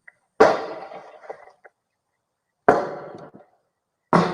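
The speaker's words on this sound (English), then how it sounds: "Shooting out the rear window toward my direction." Three sharp gunshots fired toward a house from the back sliding glass door, each a loud crack followed by a short echoing tail, spaced a couple of seconds apart with silence in between.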